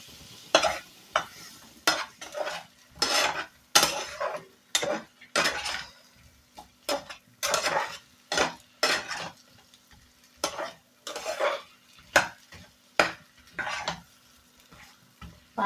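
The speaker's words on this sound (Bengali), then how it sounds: "এখানে কেটে রাখা আমগুলোকে দিয়ে কষিয়ে নেবো ভালো করে।" Cut mango pieces sautéed with chili powder and spices in a pan, rhythmic scraping and stirring strokes against metal repeating every half second or so over a faint sizzle, no talking.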